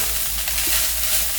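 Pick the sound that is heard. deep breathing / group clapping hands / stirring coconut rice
stirring coconut rice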